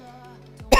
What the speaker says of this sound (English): Sorry, boys. For the cough.